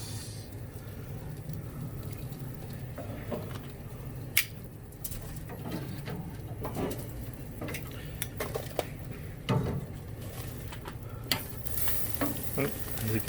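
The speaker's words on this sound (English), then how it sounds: "Okay, so now we're gonna add the little Italian sausages." Little Italian sausages sizzle steadily in a hot pan, with clinks of utensils and occasional stirring scrapes throughout, fairly quiet and close.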